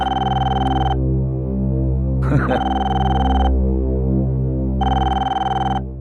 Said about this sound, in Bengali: ফোন বাজছে।